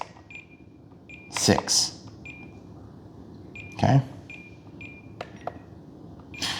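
Radio transmitter alarm for an E-flite Super Timber model plane setup: repeated short electronic beeps at a steady pace, close and clear, with someone speaking briefly and some handling clunks in between.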